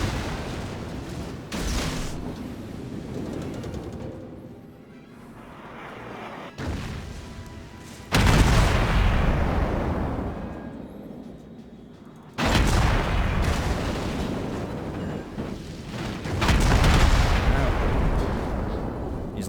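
Warship guns firing in the World of Warships video game give heavy booming salvos, with several loud blasts rolling into long decaying rumbles over continuous game noise.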